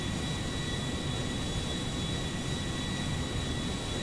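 A Boeing 787 Dreamliner climbs with its gear and flaps retracted in the video game GTA V, giving off a quiet, steady jet-engine roar and broadband rushing hiss with no other sound.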